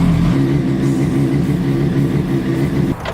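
A motorcycle engine, started with a Little Lightning Ultra Slim lithium battery power pack, running with a loud steady mid-pitched rumble that cuts off near the end.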